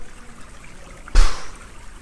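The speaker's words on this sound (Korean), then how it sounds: "큰 파도가 배에 부딪혔어요." A single big wave slaps against a boat in a storm at sea, one brief, loud watery crash rising out of quiet and fading within about half a second.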